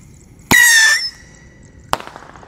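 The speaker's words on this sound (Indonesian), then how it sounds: "yang kita nyalakan di sini ada roket pirotor. Ini yang ukuran kecil ya" A small pyrotechnic rocket firework launching, a loud shrill whistle lasting about half a second that fades into a faint trailing tone, followed by a sharp crack.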